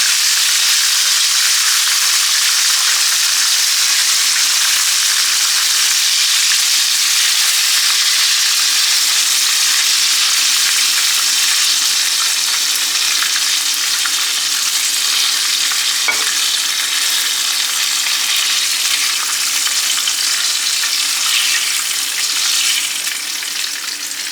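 Batches of pollock fillets frying in a pan of hot oil, giving a steady, loud sizzle and crackle that holds without a break and with no talking.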